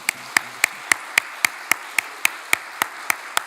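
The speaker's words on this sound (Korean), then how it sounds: "우리 다 같이 한번 크게 박수." Audience clapping in unison at a church seminar evening gathering, a slow steady rhythmic beat of sharp claps about three times per second, evenly spaced and fairly loud, with no talk over it.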